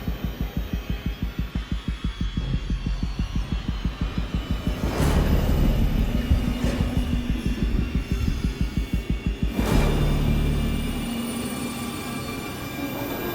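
A tram rolls in during a horror video game, a loud rhythmic clatter of wheels over rail joints with deep rumbling and two sharp metallic squeals, then slows and settles into a steady hum.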